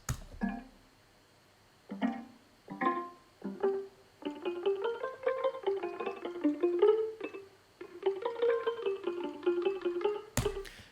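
A soft future bass synth melody meanders in a loose, slightly uneven rhythm after a few sparse plucked notes, quiet and alone with no talking.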